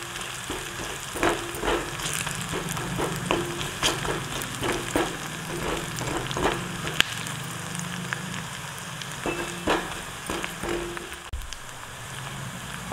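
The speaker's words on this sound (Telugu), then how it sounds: "ఉల్లిగడ్డలు ఇట్లా ఫ్రై అయిన తర్వాత" Onions with garlic fry in hot oil, a steady close sizzle broken by repeated clicking stirs of a spoon against the pan, with no speech.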